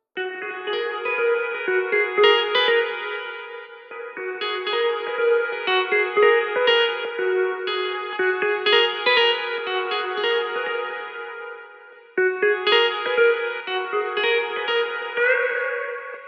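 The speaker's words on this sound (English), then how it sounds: "It's definitely washing out the sound, removing most of the high end and applying more of an echo than a delay" A synth melody, switching between a delay plugin engaged and bypassed, so plucked notes alternate between dry and washed in a dull, high-cut echo tail, with a brief gap near the end.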